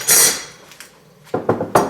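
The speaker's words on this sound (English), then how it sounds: "I usually just take a hammer and lightly tap" A hammer lightly taps a cut metal piece free from a Potter USA pancake die cutting press, giving one ringing metallic strike followed by a quick run of three sharper close taps.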